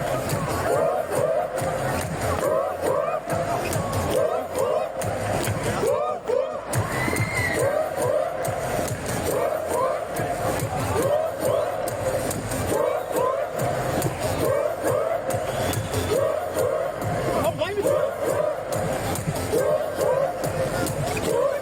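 Concert crowd at a show in Nürnberg, a dense roar of voices and cheering sustained throughout, loud and close, with music pulsing underneath.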